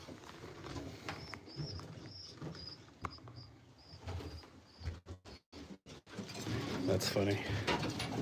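Common street pigeons coo in a breeder loft, a soft repeated murmur under steady conversation and background rustling, with a few short breaks in the sound.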